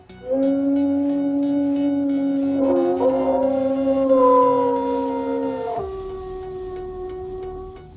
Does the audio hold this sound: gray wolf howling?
yes